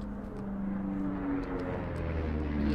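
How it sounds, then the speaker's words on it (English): Airplane passing overhead in the game Firewatch: a steady, droning engine hum that holds loud and even throughout, with no talking. "You see that plane?"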